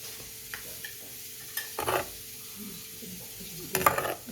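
A spoon stirs butter, cumin and spices in a hot pan, soft scraping under a faint sizzle with a few sharper metallic clinks and scrapes near the middle and end.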